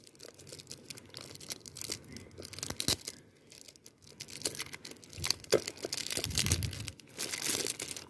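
Thin plastic wrap on a Mamaearth perfume box is cut and torn open at close range, giving faint, irregular crinkling and ripping sounds with scattered sharper snips and rustles and no speech.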